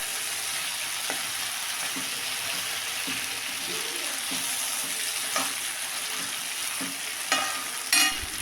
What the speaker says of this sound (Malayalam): ഈ ചീനച്ചട്ടിക്ക് ഇട്ട് കൊടുത്തിട്ട് നന്നായി ഇളക്കി യോജിപ്പിച്ചെടുക്കുക